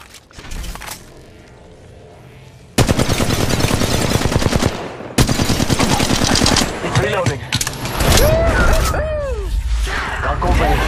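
Rapid automatic gunfire bursts from an Apex Legends Mobile match, loud and dense, with clattering weapon mechanisms and brief pauses between volleys under a player's voice.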